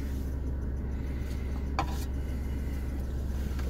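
Steady low road rumble of a car being driven back to work, a constant broadband drone with faint tire noise and a brief passing swell near the middle, no talk over it.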